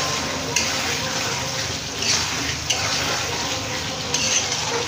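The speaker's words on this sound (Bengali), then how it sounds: "মশলাটা দিয়ে একটুখানি কষাবো।" Chicken and spices stir-fried in a pan give off a steady, close hiss of sizzling, with a few brief scraping bursts where the mixture is stirred.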